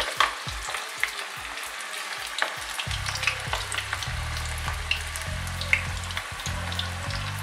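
Beetroot vadai fry in hot oil in a small pan, a dense steady sizzle with scattered bubbling pops and a low hum underneath, close and continuous with no talking.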